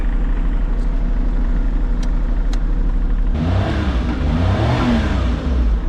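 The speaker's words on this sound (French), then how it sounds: "C'est vrai que le moteur ça donne bien l'impression qu'il est pas très vif." A car engine accelerates, the sluggish rear-mounted motor droning low before a louder revving surge rises in the second half, close by and steady, with no talk over it.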